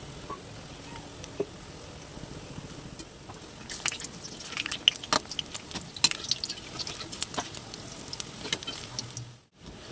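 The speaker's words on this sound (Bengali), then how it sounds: "এবার আমি মাছের ডিমের বড়াগুলোকে ছেড়ে দেবো, একটা একটা করে ছোট ছোট করে ছেড়ে দেবো।" Small fish roe fritters drop one by one into hot mustard oil and fry with a steady soft sizzle, broken by sharp crackles and pops; a brief dip near the end interrupts the frying.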